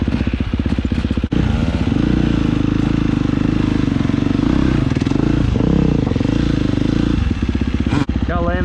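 Dirt bike ridden on a Michigan single-track trail, its engine loud and close throughout with a steady drone and shifting revs, accompanied by wind and clatter, with a voice speaking briefly over it.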